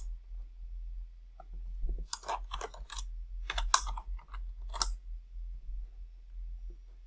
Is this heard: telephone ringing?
no